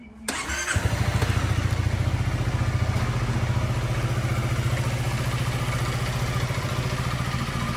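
A Honda ADV350 scooter engine cranks briefly and catches, then settles into a steady, close, slightly clattery idle that runs on evenly with no voices.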